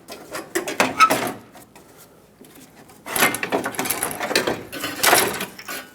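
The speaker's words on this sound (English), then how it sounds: "Take the AC condenser, pull it forward, and straight up and out." An old AC condenser being worked forward and lifted out of a 1995-2004 Toyota Tacoma, bursts of scraping, rattling metal and plastic knocks in two clusters separated by a quieter pause, close up with no talk.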